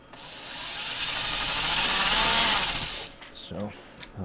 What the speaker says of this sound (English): as I create the pilot hole, my drill bit is centered down through the quarter inch holes